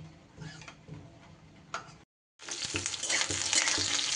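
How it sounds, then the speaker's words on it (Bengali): Onions sizzle as they are stirred in a frying pan for potato Manchurian, with close crackling and scraping that briefly stops and then returns louder and more intense. "পেঁয়াজটাও একটু নাড়াচাড়া করে নিয়ে"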